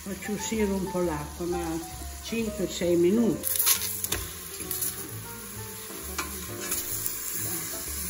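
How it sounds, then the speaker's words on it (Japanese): Steady frying sizzle of rabbit meat in a pot as its moisture cooks off, with stirring and clinking underneath and a voice talking over it throughout. "ここで約56分火にかけ肉にたまった水分を蒸発させます"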